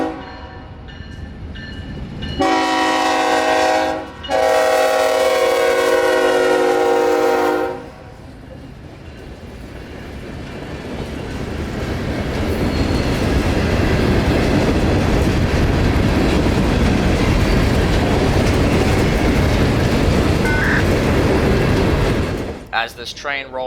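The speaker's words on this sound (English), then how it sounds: "As this train rolled by" An empty phosphate freight train rolls past at close range, its horn blaring in long blasts before the steady roar and clatter of wagons builds and carries on.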